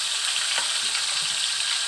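A pot of water cooking tilapia bubbles and hisses on a steady boil, close and continuous, with no voices.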